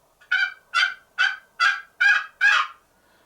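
A turkey call imitating quiet hen clucks at daybreak: six evenly spaced, sharp nasal clucks close up, each brief and distinct, with silence between them.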